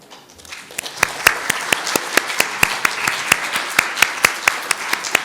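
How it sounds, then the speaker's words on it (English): Audience applause for panelists closing a session at an intellectual property conference, building from sparse claps into steady, fairly close clapping with distinct individual hand claps throughout. "please give a big round of applause to the panelists for their lively discussion"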